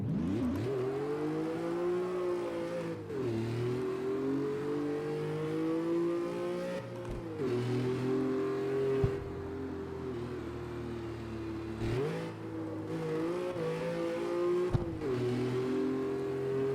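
A car engine revving and accelerating hard in the street-racing video game CarX Street, the pitch climbing and dropping sharply with each gear shift, loud and continuous with no talk.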